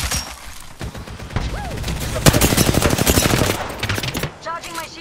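Enemy gunfire in Apex Legends on the Olympus map, a fast rattling burst of automatic shots up close, mixed with game effects and short electronic tones.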